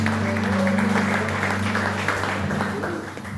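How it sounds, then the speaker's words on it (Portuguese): A church congregation applauding during a service, a dense, even clapping from many hands that holds steady and eases off slightly at the end, with a low hum in the room. "aplauda bem forte o nome do Senhor Jesus"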